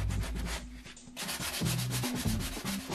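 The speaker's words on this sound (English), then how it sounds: "The whole box took me about 5 hours to sand down completely, but I got a really nice smooth finish in the end." A wooden chipboard cabinet for a renovated Laney guitar amplifier is sanded by hand in close, rapid back-and-forth strokes, a dry rasping rhythm with a short pause partway through and no talking.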